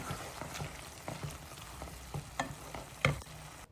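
Onions browning gently in a pan over low heat, giving a soft, steady sizzle broken by a few scattered stirring clinks and scrapes, with no one speaking.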